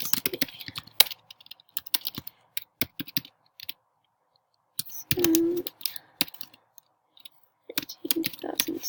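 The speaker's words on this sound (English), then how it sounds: "So I'll start by typing the first part." Quick clattering keystrokes on a computer keyboard come in irregular bursts, separated by a few silent pauses, with a brief voice-like murmur partway through.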